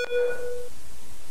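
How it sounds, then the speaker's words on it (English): A speaker in the VR game The Complex gives one short steady electronic beep that rings clearly and then fades, on its own. "Beep once if I should get in the elevator."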